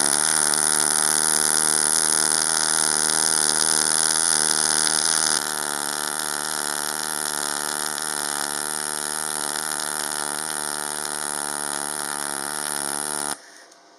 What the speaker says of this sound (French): on entend bien le bruit d'un vrai poste pulsé